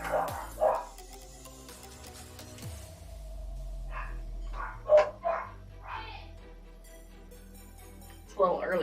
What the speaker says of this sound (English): I know the dog's barking at her